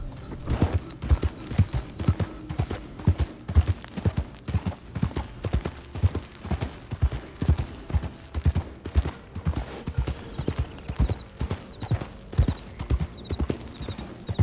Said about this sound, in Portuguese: Cavalo aqui corre, bicho.